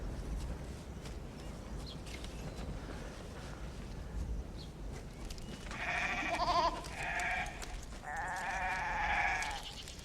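A goat bleats in a few wavering calls in the latter half, after a quiet, breezy outdoor stretch in rural China.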